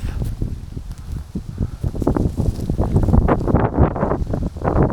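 Strong autumn wind on a Norwegian lake island buffets the microphone in continuous gusts, roaring and rumbling close up, rising louder toward the end.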